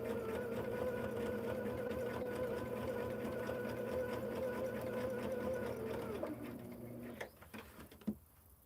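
A sewing machine runs steadily, stitching a fabric seam on hexagon quilt pieces, with a continuous mechanical hum that stops near the end and gives way to a few faint handling clicks.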